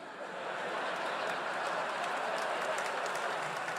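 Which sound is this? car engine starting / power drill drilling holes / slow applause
slow applause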